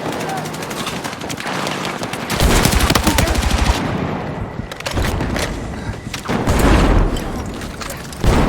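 Frag grenade blast and gunfire in Battlefield 6 at Hagental Base, dense loud bursts of automatic fire with heavy booms across the whole stretch, shouted voices mixed in.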